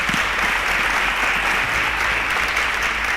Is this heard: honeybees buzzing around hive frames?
no